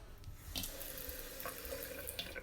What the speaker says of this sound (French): Alors là, vous voyez, on a le robinet.